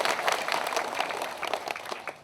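An audience at a Hindu religious talk claps together, a lively dense patter of many hands that is strongest early and slowly fades toward the end.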